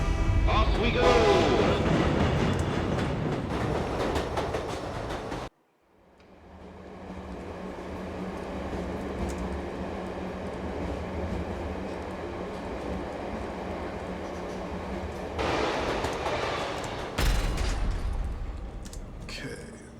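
Subway train ride in the Tokyo Death Metro of the video game Let It Die: a steady rumbling carriage drone with low hum and rattles runs between louder stretches of game sound and music at both ends, with a voice talking.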